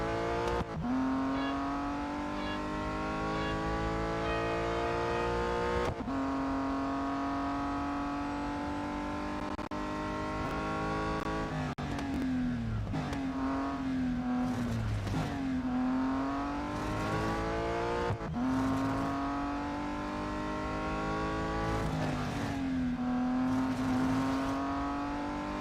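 A race car engine in Real Racing 3 at Laguna Seca drones loud and steady the whole time, its pitch climbing and falling through repeated gear shifts, with no talk over it.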